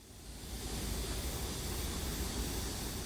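A rushing stream in a valley water play area, its steady broadband roar rising quickly and holding constant and close, with no voices.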